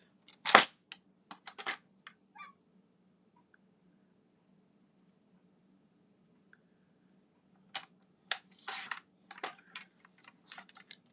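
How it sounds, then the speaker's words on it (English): A paper trimmer cuts stamped cardstock in a quiet room, making sharp close clicks and slicing scrapes: one crisp snap, a few small ticks, a long silence, then a busier run of clicks and cutting strokes, with no talk. "then I'm going to get my trimmer, and then I'm going to trim that up."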